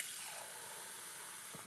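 Water pours in a steady, quiet stream into vegan waffle batter in a home kitchen, a soft continuous splashing hiss with no talking.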